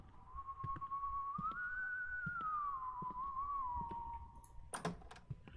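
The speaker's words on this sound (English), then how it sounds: "No, he's just whistling." A game character in the horror game White Day whistles a long, wavering tune at low volume alongside keyboard clicks and faint tapping. A sharp click comes near the end.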